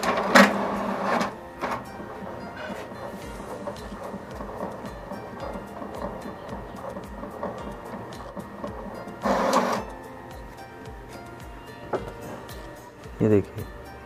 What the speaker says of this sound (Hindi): तो प्रिंटिंग हो रहा है